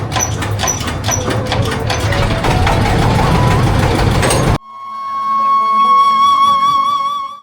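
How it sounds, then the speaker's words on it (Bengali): Engine of a twin-engine motor boat on the Jamuna river being started, a loud, close, rough mechanical running drone that breaks off abruptly and then gives way to a steadier tonal hum. "আমাদের নৌকাটি এখন স্টার্ট করা হচ্ছে"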